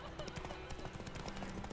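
A horse gallops in The Witcher 3 with a fast, steady clip-clop of hooves, mixed with game sound and a voice talking over it throughout.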